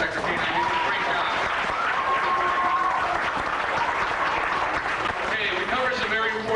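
An audience at a fire safety show on Cape Cod applauds Bob and Inspector Kane, a dense, sustained round of clapping with cheers and voices mixed in throughout.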